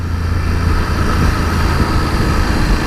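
A 2019 BMW F850 GS Adventure's parallel-twin engine rumbling steadily while riding through a tunnel, a loud continuous low drone with wind and road roar, no talking.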